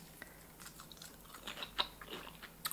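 Crunchy homemade zucchini chips being bitten and chewed up close, a run of dry crisp crunches with a few sharper snaps, alone without talk.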